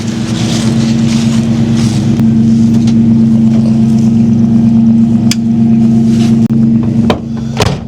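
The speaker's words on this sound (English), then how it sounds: "Let me take you riding that Charger" A Dodge Charger engine runs steadily as the car drives, a loud, close, continuous low drone with a slight rise in pitch and a brief dip near the end.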